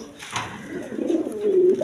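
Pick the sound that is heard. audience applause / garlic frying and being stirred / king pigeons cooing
king pigeons cooing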